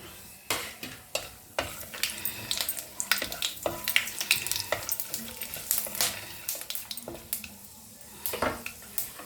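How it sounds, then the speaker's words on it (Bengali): Cinnamon, green cardamom, cloves and mace temper in hot oil for a Bengali cauliflower dish, crackling and popping in sharp, irregular bursts over a low sizzle, with occasional utensil scrapes. "এর মধ্যে আমি দারচিনি, ছোটো এলাচ, লবঙ্গ আর এইটুকুন জয়িত্রী দিচ্ছি, ফোড়ন দিলাম।"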